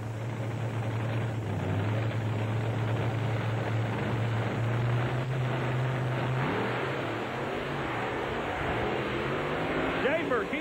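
Chevrolet and Dodge monster trucks race at an event in Lima, their engines a loud, continuous roar with a droning low note that rises toward the end, heard at a distance with arena noise.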